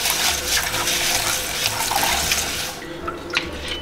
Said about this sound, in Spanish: hay que lavar el arroz hasta que se quede, pues, el agua, que salga el agua transparente